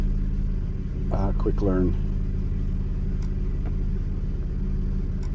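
A 2009 Dodge Nitro with a harsh-shifting transmission and code P0896 runs with a steady low engine hum and rumble, and someone speaks briefly over it near the beginning.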